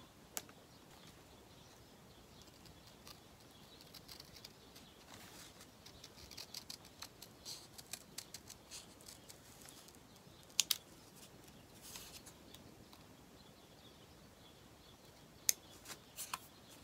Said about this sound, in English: And now, I'm going to cut this out.